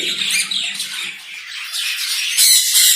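A pair of white-face birds squawks at a bird market in Bangladesh, with close, loud, harsh calls repeating over about three seconds and louder calls at the end.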